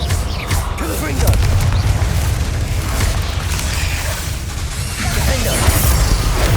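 Confringo blasting spell fired in the Hogwarts Legacy video game: heavy booming bursts with crashing debris layered over a dense, continuous battle din.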